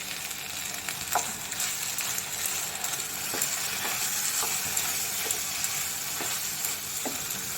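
Palak paneer sizzles and fries steadily in a pan as a little water is added, producing a continuous crackling hiss with occasional soft clinks of a utensil against the pan.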